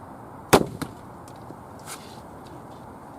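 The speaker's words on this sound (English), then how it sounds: "Let's fire a shot down range and see how she does." A crossbow is fired from inside a hunting blind, one sharp loud snap followed a beat later by a softer knock, then faint quiet rustling and small taps in the background.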